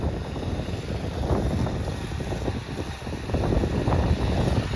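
Wind blows outdoors during work on a house exterior, heard as a constant, loud, rough rush of wind buffeting the microphone throughout, with no voices.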